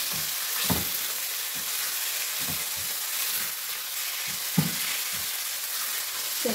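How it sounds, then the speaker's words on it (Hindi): Boneless chicken for a karahi sizzles steadily in a pan while it is stirred, with a few soft utensil knocks breaking through the constant frying hiss. "चलो ये थोड़ा सा स्टर हो जाता है, अच्छा से इसको स्टर कर लेंगे हम"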